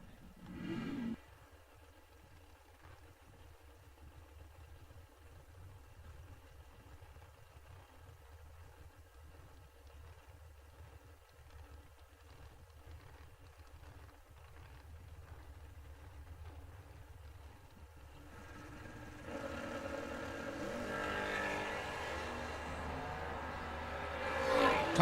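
Drag race cars, a Camaro among them, idle at a GABR event with a low, steady rumble for most of the stretch, then the engines swell louder and rougher toward the launch at the end.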